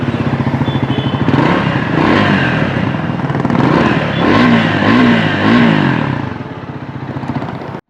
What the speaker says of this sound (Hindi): तो अगर मैं एक बार क्रैंक अप करके आपको बाइक का आवाज़ सुनाऊँ